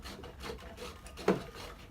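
An adze, a multi-tool with an axe on one side and a hammer on the other, scrapes and shaves small bits off a wooden surface in soft rasping strokes, with one sharper scrape near the end.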